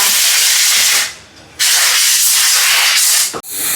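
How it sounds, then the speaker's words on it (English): Brake cleaner hisses from a spray can onto the front disc and caliper of a 2021 TVS iQube electric scooter in two long loud bursts separated by a pause, then a short final spurt. "caliper being cleaned with brake cleaner"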